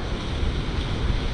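Ocean waves at a beach in Ecuador, a continuous washing surf roar mixed with wind buffeting the microphone, close and moderately loud, with no voices.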